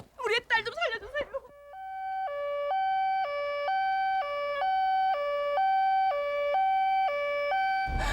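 An ambulance siren plays a steady two-tone hi-lo alternation, loud and continuous, after a short burst of speech at the start.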